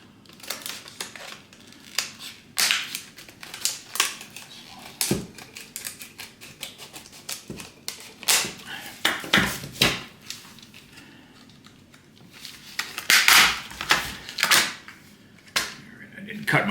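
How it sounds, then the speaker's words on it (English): Plastic clamshell packaging being opened around a Milwaukee folding jab saw, with repeated sharp cracks, snaps and crinkles coming in bursts, close and fairly loud. "I just bought this folding jab saw from Milwaukee. So let's open this up and see what it looks like."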